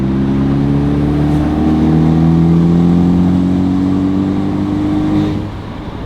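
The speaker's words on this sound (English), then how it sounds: "we are in the S3, and right now we're in comfort mode. So give it a little throttle so we can hear what it sounds like." A 2019 Audi S3 in comfort mode revs its exhaust with a rising and falling engine tone, heard from inside the car: a loud, steady drone that swells, then eases off toward the end.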